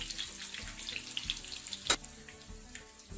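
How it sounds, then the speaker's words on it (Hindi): Chapli kabab frying in a pan, a quiet, steady crackle and sizzle of hot oil, with one sharp clank near the middle as the kababs are turned, no voices. "अब इसकी साइड चेंज करेंगे और इसी तरह इन्हें फ्राई करेंगे"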